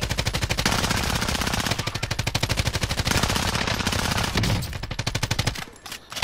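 Sustained automatic gunfire in a battle royale video game, dense overlapping bursts of loud rapid shots continuing almost without pause, thinning slightly near the end.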